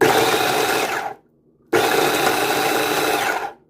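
An electric chopper whirs loudly as it chops onions, running in two close bursts separated by a short pause, with no voices.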